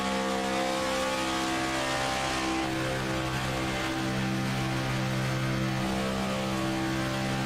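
Race cars in the iRacing sim at Daytona, a pack of Gen 6 stock cars running single file, give a steady, loud engine drone with layered harmonic tones that rise slightly partway through, with no talk.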